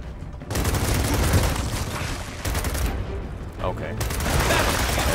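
Dense, sustained gunfire in Gears of War 4 sounds as overlapping bursts of shots and rumbling blasts, loud and close throughout, with brief dips between volleys.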